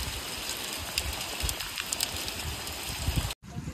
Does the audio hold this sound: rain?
yes